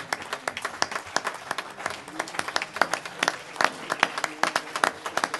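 Church congregation applauding during a worship service in Villiers, steady dense clapping with sharp individual claps throughout, moderately close and loud.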